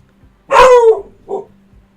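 A dog gives one loud, close bark followed by a shorter, softer yip, with quiet background and no talking.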